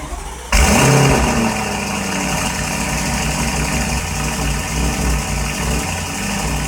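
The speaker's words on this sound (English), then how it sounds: "on cold start, the car is misfiring" A previously flooded Porsche engine cranks and catches on a cold start, then settles into a loud, steady, rough-running idle with an uneven, misfiring lump that continues close up to the end.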